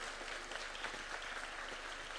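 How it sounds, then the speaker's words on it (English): Applause at the University of Nairobi greets Presidents William Ruto and Emmanuel Macron as they enter, a steady, moderately distant round of clapping from a large crowd with little voice over it. "Why don't we give them a clap as they come in"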